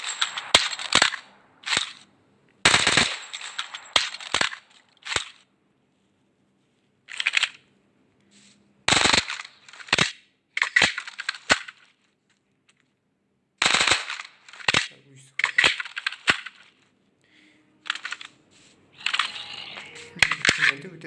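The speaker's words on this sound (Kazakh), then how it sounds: "Келесі осындай автомат өте керемет." Automatic rifle bursts from a Minecraft weapons mod, sharp rapid clusters of shots separated by silent gaps, recurring about a dozen times at close range, with someone speaking between some bursts.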